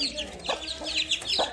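Young chicks and a hen clucking and peeping in a cage, several overlapping high chirps in a busy, close run with faint talk underneath.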